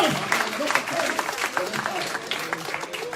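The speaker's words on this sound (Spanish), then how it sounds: "Fuerte ese aplauso." A church congregation claps in a steady, lively patter of applause during a service, crowd-wide and sustained, with some voices mixed in.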